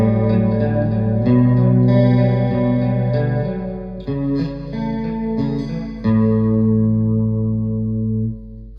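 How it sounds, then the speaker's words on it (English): An electric guitar plays an opening riff through a Marshall Valvestate AVT 150 amp with effects and an acoustic simulator, giving shimmering picked chords and single notes with chorus-like wash, clear and unaccompanied. "that's a Marshall Valvestate amp with some effects with an acoustic simulator"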